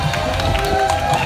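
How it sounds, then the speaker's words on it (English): A crowd at a science show at an ostrich festival cheers for a child volunteer, a brief loud burst of cheering and clapping with voices mixed in. "A big cheer for Patience."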